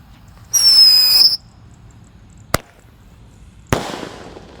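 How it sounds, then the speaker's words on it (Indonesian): A Happy Power 4 roman candle firecracker whistles as it launches, then bursts twice, a sharp crack followed by a louder, reverberating boom, each distinct against a quiet outdoor background. "ada mercon Happy Power 4. Ini bledesnya 2 kali di bawah dan di atas"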